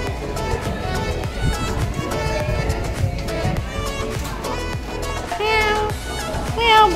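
A domestic cat meows repeatedly and loudly up close, mixed in with a person's talking voice and some background movement.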